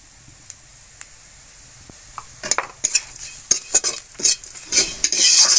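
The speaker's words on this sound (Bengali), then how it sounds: "হলুদ গুঁড়োটা দিয়ে দিচ্ছি।" Turmeric powder stirred into frying masala for a traditional fish curry: quiet sizzle at first with a few isolated clinks, then a burst of quick scraping and clattering strokes of a spoon in the pan, ending in louder sizzling.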